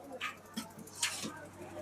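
A dog yips and barks in several short bursts at close range in a village setting, with faint background voices between the barks.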